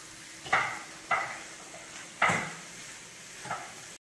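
Fried potatoes being stir-fried with spices in a pan for Kashmiri aloo, four distinct scraping stirs with brief sizzling bursts spaced about a second apart, close and clear with no talk.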